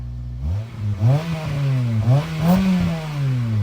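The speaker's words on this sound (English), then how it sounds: "let's get a little rev" A 2002–2006 Acura RSX Type-S with an HKS Hi-Power exhaust, factory manifold and catalytic converter revs up from idle in several quick climbing blips, loud and close, its harmonics rising and falling with no talk.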